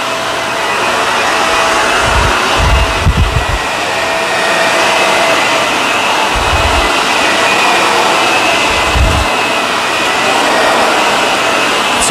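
A Shark Rotator or Dyson Ball vacuum cleaner roars steadily throughout at close range, with a few low thumps and bumps from a camera fallen into its front breaking through the constant whooshing motor noise.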